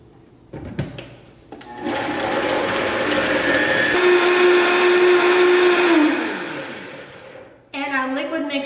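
Kitchen blender whirring through honey, vanilla and cinnamon, starting with clicks and a brief pulse, then a loud steady whine for several seconds that winds down before a short burst of speech.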